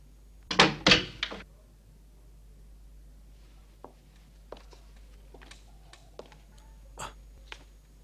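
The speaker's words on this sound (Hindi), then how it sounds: "दरवाजे को क्या हुआ?" A door bangs loudly twice in quick succession in a quiet room, followed by a scatter of faint knocks and taps.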